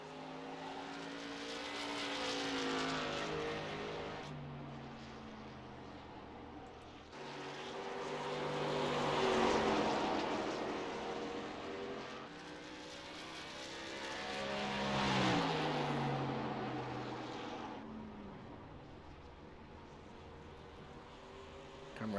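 A race car engine in a racing video game drives a timed lap, droning and rising in three long swells as it accelerates and shifts, a continuous synthetic whine with no voices.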